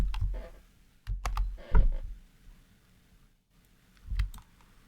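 A few sharp computer mouse clicks during editing in DaVinci Resolve, near and fairly quiet, spaced irregularly with short bursts of clicking and long pauses between them.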